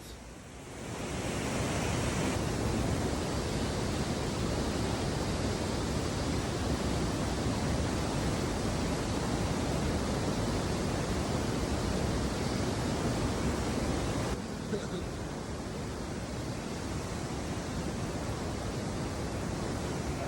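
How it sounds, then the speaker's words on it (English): A waterfall roars inside a canyon as a loud, dense, unbroken rush of water echoing off the canyon walls, dipping slightly near the end. "The water was so loud inside the canyon walls."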